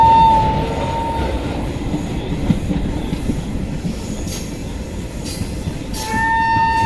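An Intercity Express train's wheels roll over a diamond crossing on the route toward Prayagraj, heard from inside as a steady close rumble with rhythmic clatter and faint high wheel squeals.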